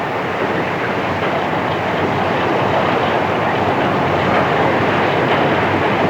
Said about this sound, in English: Over the river, and the train is on the outskirts of Sydney.